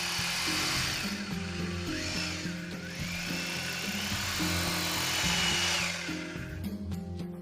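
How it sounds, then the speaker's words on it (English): A power drill whines steadily at close range, its pitch rising and falling as it bores holes into a wall, running continuously throughout. "make holes in the wall using an appropriate drill bit."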